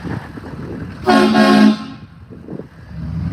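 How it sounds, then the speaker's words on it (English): A loud, sustained train horn blast sounds for about half a second amid low background rumble, then fades, leaving quiet ambient noise. "You think the train horns are gonna echo?"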